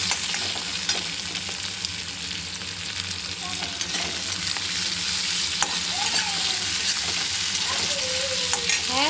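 Shrimp fry in a hot pan with pumpkin leaves and flowers, giving a loud, steady crackling sizzle with occasional stirring scrapes, close up and without talk.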